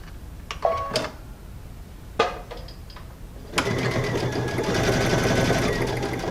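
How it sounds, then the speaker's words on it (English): Sewing machine stitching a quarter-inch seam through quilt batting, a steady motorized whir with rhythmic needle chatter that starts after a few soft handling clicks and runs continuously to the end. "And stitch our 1/4 inch seam."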